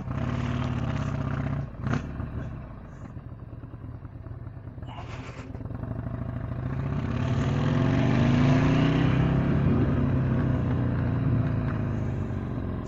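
A motorcycle engine with a packed exhaust runs under a rider, a steady throaty rumble that dips briefly, then builds and swells louder as it accelerates, with wind noise throughout.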